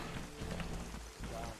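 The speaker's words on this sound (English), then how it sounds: "let's get out of the rain, let's go inside." Rain falls in the video game DayZ, a faint, even patter of drops on surfaces running throughout.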